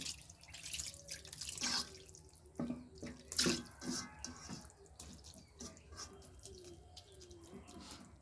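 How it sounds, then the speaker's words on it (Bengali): Hand-rinsing water pours into a pan of small kachki fish with a soft, quiet splashing trickle and a few drips, heard close and low in level. "তো এখন হাত ধোয়া পানিটা আমি দিয়ে দিচ্ছি"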